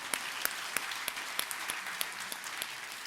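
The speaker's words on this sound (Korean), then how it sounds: "박수 하나님께 올려드립니다." A church congregation at a Korean morning worship service claps in praise to God, a sparse, fairly quiet round of applause with distinct individual claps spaced through the stretch and no talk over it.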